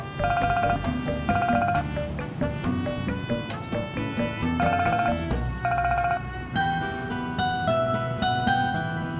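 A telephone ringtone plays loud and close, a repeating electronic melody of bright tonal beeps in quick phrases that runs the whole time with no talk over it.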